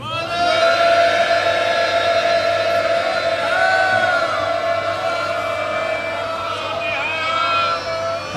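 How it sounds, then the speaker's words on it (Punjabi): A Sikh congregation at Takhat Sri Harimandir Ji Patna Sahib roars another jaikara together, a sustained loud collective shout of many voices with rising whoops, filling the hall continuously. "ਇੱਕ ਜੈਕਾਰਾ ਹੋਰ ਵੀ ਗੁਜਾ ਦਿਓ।"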